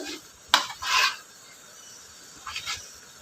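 Spoon stirring drumstick, tomato and onion in a pan, a few short scraping rubs against the pan at irregular intervals, close and fairly quiet.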